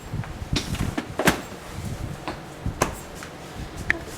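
A few muffled thuds and knocks of Samsung RF267 refrigerator doors being shut, with soft clunks scattered over a couple of seconds against a quiet room.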